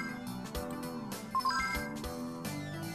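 A mobile phone rings with an incoming call from an unknown number, its melodic electronic ringtone playing loud and steady throughout, with a few bright rising notes partway through.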